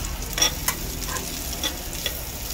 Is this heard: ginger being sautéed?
yes